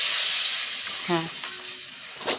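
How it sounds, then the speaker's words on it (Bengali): Vegetable pieces frying in hot oil give a steady, close sizzling hiss throughout, briefly joined by a short voiced sound and small clinks partway through. "দেখুন, কালনাগুলো ভাজছি।"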